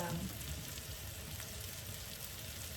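Seasoned food stirs and sizzles in a frying pan, giving a steady, soft crackle of frying under faint background noise for a few seconds.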